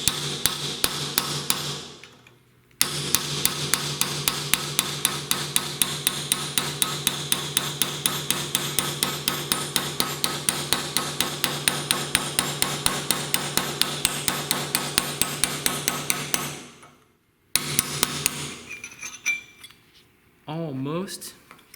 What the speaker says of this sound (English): put the sharp edge of the chisel right next to a fixed surface, such as this vise, and then you start hammering